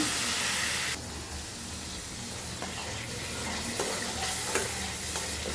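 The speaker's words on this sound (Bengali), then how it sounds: "মশলা দিয়ে দিছি এটাকে ভালো করে কষাই নিব হলুদ মরিচ দিব এখন" Spice masala with turmeric and chili fries in oil for a hilsa curry, giving a dense, steady sizzling hiss with occasional faint scrapes of stirring.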